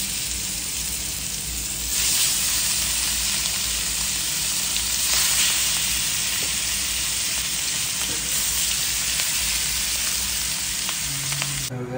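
Spices dropped into hot oil in a wok crackle into a loud, continuous close sizzle that swells slightly after the first moments and holds steady throughout.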